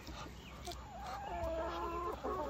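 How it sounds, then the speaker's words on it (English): Backyard hens feeding on fresh greens give low, close clucks that rise into a short run of drawn-out, warbling calls toward the end, with no voices present. "These chickens really love green."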